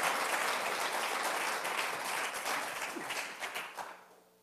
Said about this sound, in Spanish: Fuerte, fuerte ese aplauso al Señor.